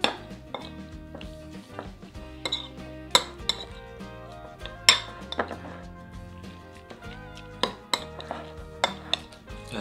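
Spicy mayo salad being stirred in a bowl, a run of quick clinks and taps of utensil against the dish, close and fairly faint, with no one speaking.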